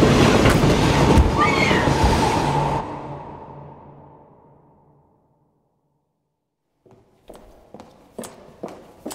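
A train runs on rails in a film scene, a loud, dense rumble that fades out over several seconds into silence, followed by a few sharp, separate clicks.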